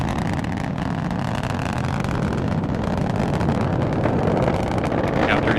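Rocket boosters fire during a space probe launch, with three boosters burning at full thrust. The roar is loud, steady and broadband, and it carries on without a break for the whole span.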